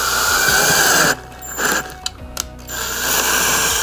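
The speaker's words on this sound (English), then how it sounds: "Insert your 1/4 inch bit and then gently drill." A power drill with a quarter-inch bit whirs in a steady continuous burst, pauses with a few clicks and taps, then spins up again, close and fairly loud, while mounting brackets are installed.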